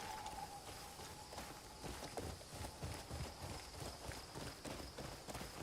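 Horse hooves clip-clop in a steady walking rhythm over a background of broadband noise, moderately close with no speech.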